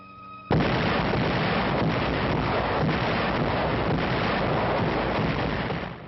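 Allied artillery guns fire at night along the Italian front, a sudden loud onset into a sustained dense roar of rumbling blasts and distorted, wind-like noise that continues steadily without talk.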